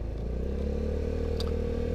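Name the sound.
Suzuki Spin 125 motorcycle with RRGS aftermarket exhaust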